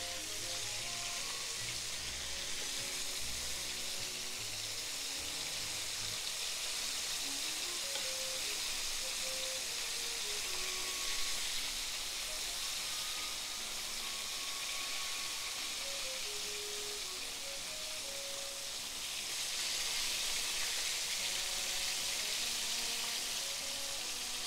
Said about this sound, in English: Fry it for 4 minutes. For the last 1 minute, bring the heat to high.